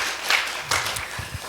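Brief applause from a church congregation at a Christmas service, welcoming a member seated at the back; short bursts of clapping rise and fade quickly within a moment, with faint murmuring beneath.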